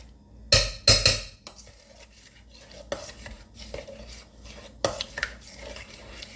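Wet ingredients for iron-rich muffins, vanilla among them, being mixed in a bowl: two loud clinks of a utensil against the dish, then softer scraping and stirring taps with a few more knocks.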